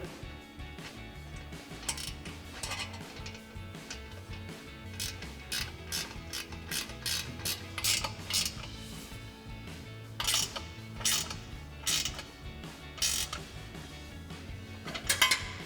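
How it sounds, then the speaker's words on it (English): A 13 mm ratcheting wrench tightens exhaust bolts on an F-150 during an MBRP exhaust install, giving bursts of fast metallic ratchet clicks in irregular runs, close and clear with no talking. "now we'll tighten this down with our 13 millimeter ratcheting wrench"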